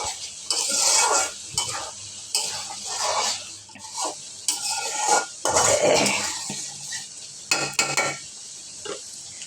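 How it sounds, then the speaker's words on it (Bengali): Fried fish heads go one by one into nearly cooked dal in a pan, giving a string of clattering pot-and-utensil knocks and stirring scrapes with a faint sizzle underneath, close and fairly loud, with no talking. "একে একে মাছের মাথাটা দিয়ে দিচ্ছি।"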